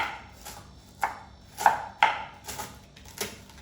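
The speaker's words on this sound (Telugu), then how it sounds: "ఫస్ట్ క్యాబేజ్ కట్ చేసుకుంటున్నాను" A knife chops through cabbage on a cutting board in a home kitchen, with six or seven crisp, irregular strikes close by, each a short sharp thud.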